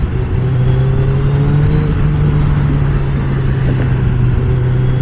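A Suzuki motorcycle rides in restricted C mode, its engine holding a steady, droning hum with only a gentle rise in pitch, heard close over constant wind rumble.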